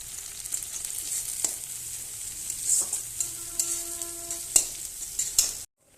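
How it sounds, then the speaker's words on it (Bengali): Onion frying in hot oil in a pan, a crackling sizzle under intermittent metal spatula scrapes and a few sharp clinks near the mic, ending abruptly. "তো তেল গরম ছিল, আমি পেঁয়াজটা দিয়ে দিলাম। একটু ভাজা ভাজা করে নেব পেঁয়াজটা।"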